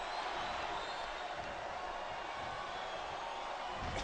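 Wrestling arena crowd in a Triple H versus Jeff Hardy match, a faint, distant, continuous roar of cheering and noise with no distinct individual claps standing out.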